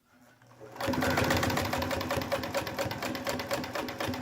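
A vintage Universal sewing machine, fitted with a commercial Singer tension spring and a Class 15 bobbin case, starts up and stitches steadily through three layers of marine-grade vinyl, a loud close rapid mechanical clatter with a fast even rhythm and no talk.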